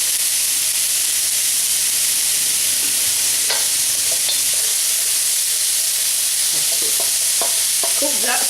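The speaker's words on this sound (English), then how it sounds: "So I've got to sweat the carrot down in the oven first." Carrots sweat in a drop of oil in a pan over low heat, giving a constant, loud frying hiss. Several sharp clicks and scrapes of a utensil come toward the end, with no talk.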